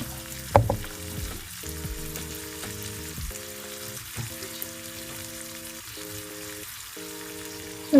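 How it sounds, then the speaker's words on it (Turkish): Steady crackling sizzle of minced meat frying in a hot pan, continuous and close, with a few clanks of a utensil near the start. "kıymalarımız biraz kavrulup bu şekilde mühürlendikten sonra hafiften yağ gezdiriyoruz"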